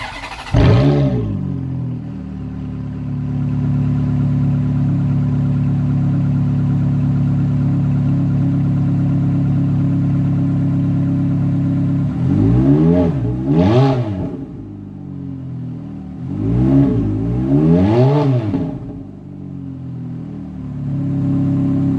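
A warm 2006 Ferrari F430 Berlinetta V8, already at temperature and apparently with aftermarket exhaust, cranks and fires into a steady idle, then gives several sharp rev blips close up.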